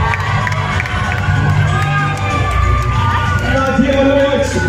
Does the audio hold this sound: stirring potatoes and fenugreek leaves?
no